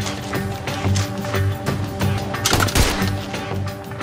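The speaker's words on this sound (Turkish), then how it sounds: "Silah, silah sesleri" Gunfire bursts in a dense battle scene, with a sharp cluster of shots near the middle, layered over a steady low musical drone and no clear talking.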